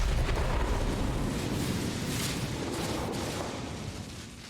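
A powerful weapon fired in the video game Chernobylite: a loud, sustained roaring blast that fills the whole clip and slowly tapers off, with no talk over it.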